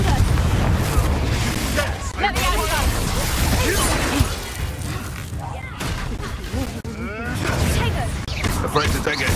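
Confringo fire curse spells exploding during combat in the video game Hogwarts Legacy, with repeated booming blasts and crashes amid a busy fight, while voices shout over the noise.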